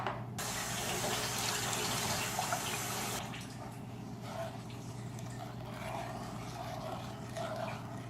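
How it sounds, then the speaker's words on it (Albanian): Water from a tap gushes into a pot for sugar syrup, a steady rushing pour that cuts off abruptly after about three seconds, leaving softer trickling and splashing, close and fairly quiet. "hedhim edhe 2 gota ujë"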